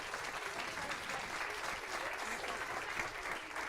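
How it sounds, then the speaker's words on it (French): Applause fills the whole stretch from a crowd at a live show, dense continuous clapping at moderate level with a brief cheer mixed in, no talking heard over it. "Une acclamation"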